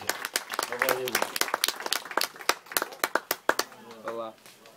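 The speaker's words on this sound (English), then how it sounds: "Let's give him a big round of applause." Scattered clapping from a small crowd applauding a Fijian firewalker on Bounty Island, with irregular, sharp claps close by while a voice talks over the start and again near the end.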